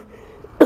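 A single short, sharp cough close by, following a brief quiet moment.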